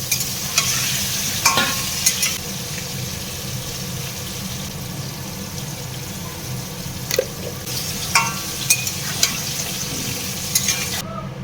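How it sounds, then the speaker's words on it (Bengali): Potatoes fry in oil in a pan with a loud, continuous sizzle, broken by occasional sharper clinks and scrapes from stirring; no one speaks. "আলুটা ভেজে উঠিয়ে নিলাম লাল লাল করে"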